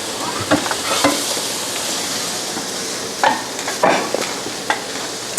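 Vegetables for Hungarian layered stuffed cabbage gently sautéing in a pan, with a steady soft sizzle and occasional spoon clicks and stirring scrapes, close by and without talk.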